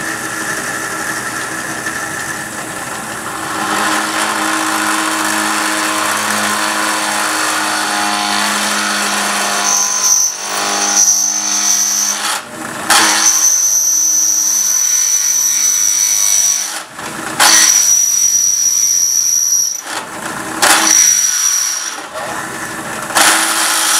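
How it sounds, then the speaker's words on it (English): A Sears Craftsman drill press motor runs steadily at close range while the bit bores through steel, with high whining squeals and several brief pauses as the cut starts and stops. "So let's turn it on, and I'm going through steel here, so it's going to be a little bit longer of a drill than just a normal wood"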